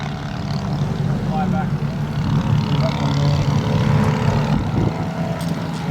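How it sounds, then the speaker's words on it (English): Large radio-controlled propeller model airplanes flying at the Joe Nall fly-in, a steady droning engine hum that persists throughout with a slight rise in the middle, while people chat nearby. "Oh, those are big planes."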